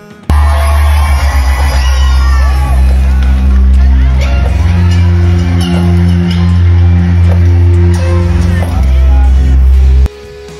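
Shrill shouting and whooping from a live audience as a performer steps onto the Eat Bulaga stage with backup dancers, loud cheers layered over booming stage music, cutting off abruptly near the end.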